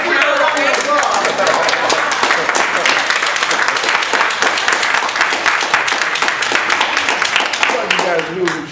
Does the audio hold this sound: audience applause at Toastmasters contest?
yes